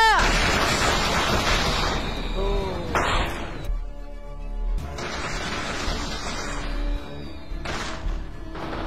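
A flare gun fires in PUBG Mobile with a loud boom and crackle, followed by more bursts and rushing game noise.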